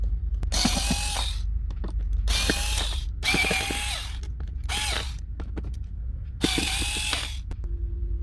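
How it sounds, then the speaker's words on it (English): A power drill backs screws out of an IKEA drawer in several separate bursts, each a loud ratcheting whir lasting about a second, with short pauses between them and a quiet low hum underneath. "Now unscrew those."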